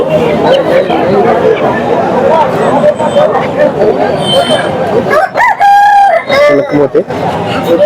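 A rooster crows loudly and close at a Bangarpet breed-rooster market, standing out over a busy crowd of chattering voices, with other fowl clucking in the background.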